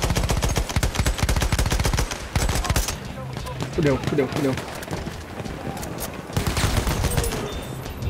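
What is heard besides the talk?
enemy machine gun fire in video game Battlefield 1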